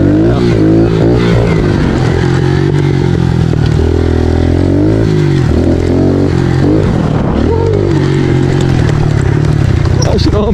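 A Kawasaki KLX 110 big bore dirt bike runs loud and close, its small engine buzzing and revving up and down in waves with rattly clatter throughout.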